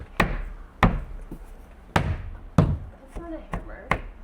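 A bare hand taps baseboard trim back into place, giving sharp knocks at uneven intervals, close and fairly loud with nothing else heard between them.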